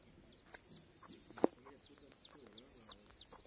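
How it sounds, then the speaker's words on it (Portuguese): A hen clucking softly while scratching the ground for her chicks on a farm, low repeated clucks amid birdsong, with a couple of sharp knocks. "A galinha ali ciscando, pra seus pintainhos acharem uns bichinhos."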